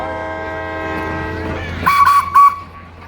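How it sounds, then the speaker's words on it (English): Percy, a small steam engine at Strasburg Railroad, sounds two short, shrill whistle blasts over a steady low idling rumble, the second blast louder and close by. "Blow your whistle!"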